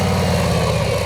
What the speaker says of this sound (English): Since we got the bike started,